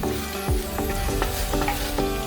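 Garlic fried rice (sinangag) sizzles steadily in a pan, with a few sharp scraping stirs of a utensil breaking through the continuous close frying hiss.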